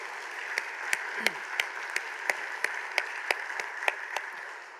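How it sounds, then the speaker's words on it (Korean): Church congregation applauding the Hallelujah choir during a Sunday worship service, a soft, steady wash of clapping with a handful of sharper, distinct claps standing out at regular intervals. "우리 할렐루야 찬양대 위에서 박수로 한 번 더 격려하도록 하겠습니다"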